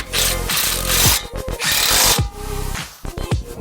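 Bolts on a WRX strut fitted to a Forester XT are tightened, giving close ratcheting and rubbing bursts of metal noise with short pauses between strokes and no talk.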